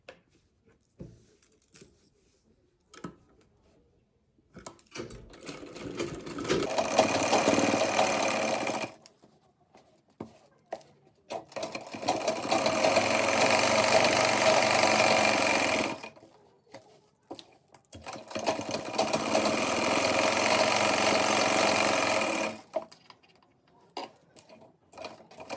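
A sewing machine stitches buckram onto an embroidered salwar hem. It runs in three sustained, loud, close bursts of several seconds each, separated by near silence with faint handling noises.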